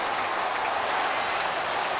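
A stadium crowd of football fans at the MCG roars in a steady, dense wash of cheering and applause at an AFL match, Melbourne v Fremantle, with no gaps or distinct voices standing out.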